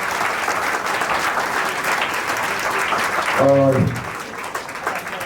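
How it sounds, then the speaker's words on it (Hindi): Loud applause from a crowd at a Bihar Police honour ceremony for selected students, steady clapping throughout with a short spoken word heard over it. "जोरदार ताली बजाओ बच्चा"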